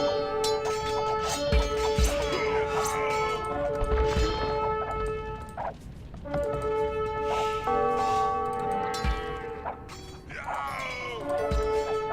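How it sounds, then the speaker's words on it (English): Church bells ring continuously, loud and layered, in an Age of Empires match, with clanging strikes and background battle sounds. "That's too much of the bell sound to handle."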